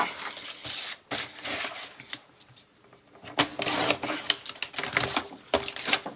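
Paper being cut for a scrapbook album, with soft crisp snips and rustling handling noises in irregular short bursts, fairly quiet and close, with no talking.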